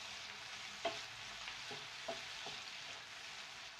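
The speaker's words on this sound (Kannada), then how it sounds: "ಇದು ಹಸಿ ವಾಸನೆ ಹೋಗೋವರೆಗೂ ಇದನ್ನು ಚೆನ್ನಾಗಿ ಫ್ರೈ ಮಾಡ್ಕೊಳ್ಳೋಣ." Ginger garlic paste fries in oil for egg chilli manchurian, a soft steady sizzle with a few light scrapes of a spoon stirring the pan.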